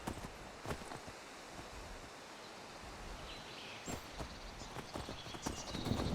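Horse hooves clip-clop in the video game Skyrim as a mount trots along at a steady rhythm. The sound is fairly faint, with soft rustling in the background.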